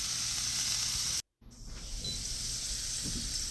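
A smash burger fries on a griddle top fitted to a Masterbuilt 1050 smoker, giving a steady, loud, close hiss that cuts out briefly and then comes back a little softer.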